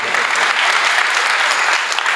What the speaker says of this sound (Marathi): आपण जोरदार टाळ्यांचा गजर करूयात